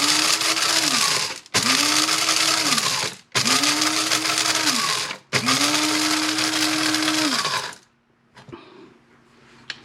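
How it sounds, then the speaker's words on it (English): An electric grinder whirs through spices and hot peppers for spiced beef jerky in four loud pulses of a few seconds each, its pitch dipping as each starts, then quiet rattling after the last, with no talk. "So I'm going to grind it up."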